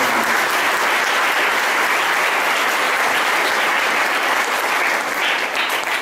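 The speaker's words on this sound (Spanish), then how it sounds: "Un fuerte aplauso," A congregation applauds during a patronal festival mass for the Immaculate Conception in a parish church, a dense, loud, sustained burst of clapping that stays even for several seconds and eases slightly at the end.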